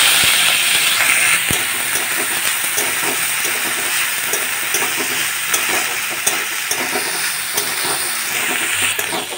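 Corn kernels sizzle steadily in a hot pan with a cumin and asafoetida tempering, a dense continuous crackle and hiss with occasional stirring clinks, close and fairly loud, with no voices.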